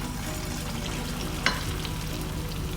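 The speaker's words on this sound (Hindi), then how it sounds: "अब हम इसको करेंगे डीप फ्राई।" Paneer kofta balls deep frying in hot oil, a continuous dense bubbling sizzle with one brief sharp crackle near the middle, close and steady.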